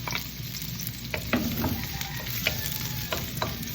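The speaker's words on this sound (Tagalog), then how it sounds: "Magigisa na tayo ng sibuyas." Chopped onion and garlic sautéing in hot oil in a pan, a steady close sizzle with scrapes and light stirring knocks throughout, no voices.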